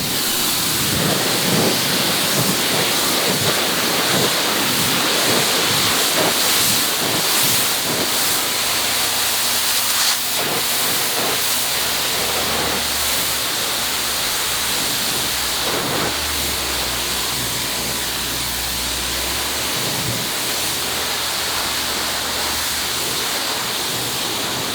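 Water sprayed onto a figured English walnut log at a sawmill, a continuous loud hissing spray with splashing and low rumbling, steady throughout with no talking.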